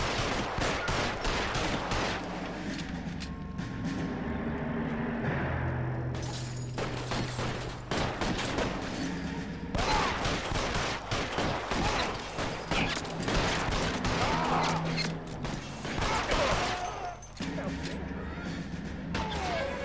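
Repeated volleys of gunfire crack through a shootout in the video game L.A. Noire on Switch, coming in dense bursts with brief gaps between them, while voices talk over parts of the exchange.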